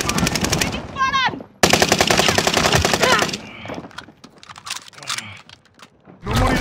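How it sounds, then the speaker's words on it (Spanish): Automatic gunfire bursts in the Call of Duty Modern Warfare video game, a loud rapid machine-gun rattle in two long volleys, followed by scattered quieter shots and mechanical clatter, with a burst returning at the end. "¡Me disparan!"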